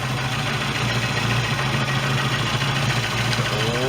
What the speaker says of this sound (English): Alright, well, it is idling.